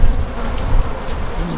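Honey bees hum and buzz loudly from an open beehive, a dense, close, continuous drone with no one talking.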